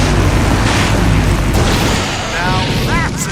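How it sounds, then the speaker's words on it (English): A large explosion in the video game Full Throttle Remastered: a loud booming blast with a rumbling roar that slowly tails off, with some higher sounds near the end. "Now that's an explosion, ladies and gentlemen."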